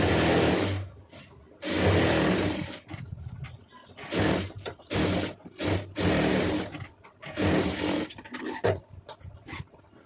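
Sewing machine stitching the lining of a blouse, running in loud close bursts of a few seconds each, separated by short pauses and quieter handling sounds.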